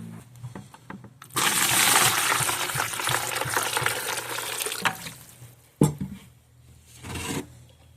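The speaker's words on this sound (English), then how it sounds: "I'm going to put water in these" Water pours noisily from a tap or container into containers holding gathered American chestnut seeds, a loud rushing stream for several seconds, then a sharp clunk and a shorter second splash.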